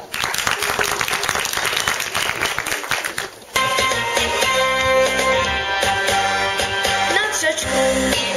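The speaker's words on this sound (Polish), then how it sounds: "Brawa!" Audience applause at a school children's song festival about health, a dense patter of many hands clapping under music, growing louder and fuller after a brief dip.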